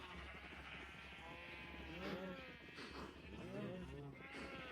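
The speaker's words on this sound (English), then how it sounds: "Lots and lots of sheep." Sheep bleat repeatedly in Minecraft, with several wavering game bleats overlapping across the stretch, backed by a low steady hum, and a person talks quietly under them.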